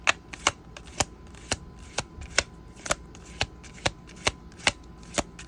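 Tarot cards are shuffled by hand, producing sharp papery riffles and slaps at a steady, slightly uneven pace, about a dozen crisp snaps close to the listener with no one speaking.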